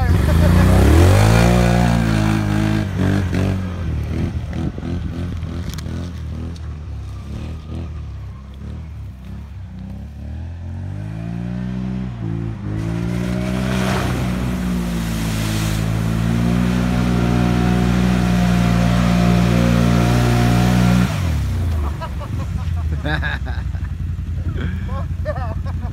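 A Can-Am 500 ATV engine revs repeatedly up close, pitch rising and falling through several long pulls with brief pauses, mixed with some voices in the background.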